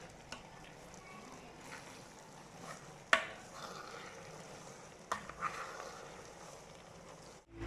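A dish seasoned with oregano is stirred in a pan: a steady, soft scraping and sizzling hiss runs throughout, broken by two sharp utensil clinks against the pan partway through, with no talking.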